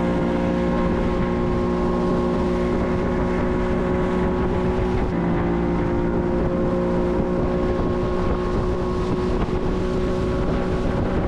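Outboard boat engine on a fishing boat running steadily on water, a loud, constant motor drone with a sustained whine and wind buffeting the microphone throughout.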